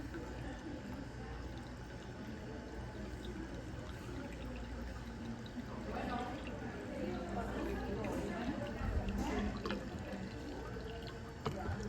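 Clean water flushing out through a beer line tap on a long-draw blended gas system, a steady pouring and splashing stream that runs throughout and swells slightly toward the end, with a person talking over it.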